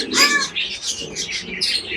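Pigeons sitting with their eggs call in a busy run of bright, overlapping chirps, with soft cooing underneath, close and continuous for about two seconds.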